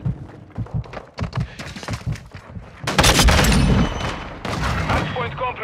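Gunfire in Call of Duty: Modern Warfare II: a rapid fusillade of shots and heavy thuds swells in loud, dense bursts, with voices talking through the chaos.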